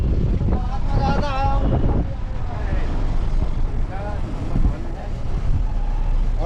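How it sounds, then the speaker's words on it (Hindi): Cold wind buffets the microphone at Naina Peak, the highest summit above Nainital, rumbling steadily under a person talking throughout. "और बहुत ही ठंडी हवा चल रही है"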